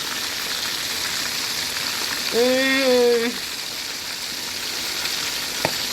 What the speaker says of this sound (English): Hope y'all are enjoying the sizzle too. Some people like the sizzle of cooking.